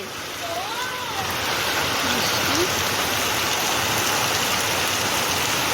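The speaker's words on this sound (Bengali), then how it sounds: "এত বৃষ্টি, বাপ রে বাপ, মনে হচ্ছে ঘরে জল ঢুকবে এবারে।" Heavy rain pours steadily onto a village home, a dense, continuous broadband hiss that stays loud and even throughout, with faint voices briefly audible beneath the downpour.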